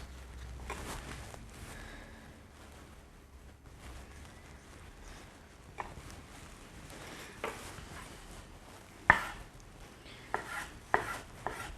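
A knife slices tomatoes into thin strips on a board, with quiet, close cutting knocks that start sparse and grow quicker and sharper toward the end, and no talking.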